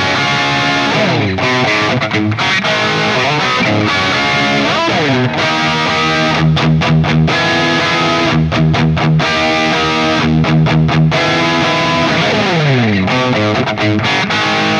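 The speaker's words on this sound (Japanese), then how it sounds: "タルリバーブっていうこういうフリーのリバーブプラグインがあります。 これをちょっとかけてみましょうか。" Distorted electric guitar through the free TAL-Reverb plugin, playing chords and riffs with a wide, washy reverb tail, loud and continuous with no voices.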